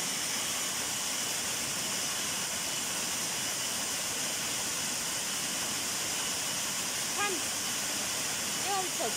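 Waterfall in Phuket, Thailand, a loud, steady rush of falling water that fills the whole clip with dense hiss, with faint voices appearing near the end.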